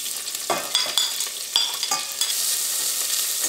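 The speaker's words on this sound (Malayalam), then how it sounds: "ഈ സവോളയ്ക്ക് ഈ വെളിച്ചെണ്ണയിൽ കിടന്ന് നന്നായിട്ട് മുരിയണം." Sliced onion, ginger and green chili frying with cumin in hot coconut oil for a Kerala-style egg and potato stew. A dense, loud sizzle runs throughout, broken by several scraping stirs of a spoon near the start, with no talking.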